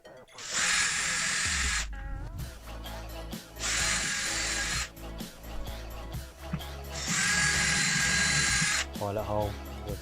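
A power drill drives screws into curtain rod brackets in three long, loud whirring bursts separated by short pauses, with clattering handling noises in between.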